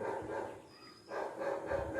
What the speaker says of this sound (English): You can hear the bark of a dog, no, nearby house.